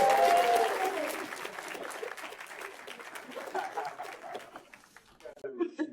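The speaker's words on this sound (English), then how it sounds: "Your applause." A conference audience claps steadily, fairly loud at first and gradually thinning over six seconds, with a few scattered chuckles and a voice under the applause.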